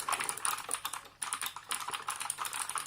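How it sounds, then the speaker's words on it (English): A Redragon Varuna keyboard is typed on at a steady pace, giving a dense run of crisp, close key clicks with a brief pause midway. No voices are heard. "I would definitely see myself using this and typing all day"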